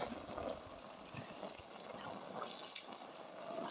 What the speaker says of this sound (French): Newton, il attend que ça, là, que Jérôme l'arrose.